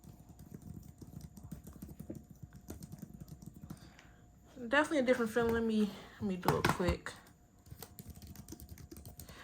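Rapid, steady key clicks from typing on a keyboard case for a Samsung Galaxy Tab S8 Ultra tablet, close and fairly quiet, running before and after a stretch where a person talks over them.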